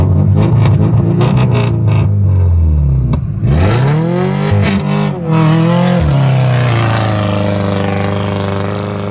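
A 550-horsepower Subaru engine revs hard and loud up close, rising and falling through several sharp climbs before settling into a steady high drone.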